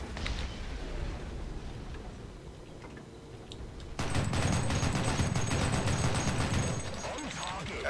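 Rapid automatic flak cannon fire from a Flakpanzer in the tank game War Thunder, a dense, loud stream of shots that grows heavier halfway through, with a player's voice speaking over it.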